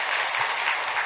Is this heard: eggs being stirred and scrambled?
no